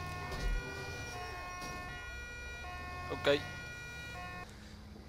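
Wailing ambulance siren in GTA 5 during a Dutch emergency-services roleplay run, a steady tonal wail carrying through most of the moment at moderate level, with a voice briefly speaking over it.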